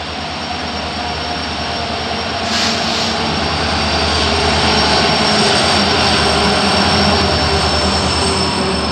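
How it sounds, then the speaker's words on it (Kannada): The 11311 Solapur–Hassan Superfast Express pulls into platform 3, a loud, continuous low rumble that swells after a couple of seconds and stays heavy and close, with no speech. "ಆ ಕಡೆ 3ನೇ ಪ್ಲ್ಯಾಟ್ಫಾರ್ಮಿಗೆ ಇವಾಗ ಎಂಟ್ರಿ ಆಗಿದೆ."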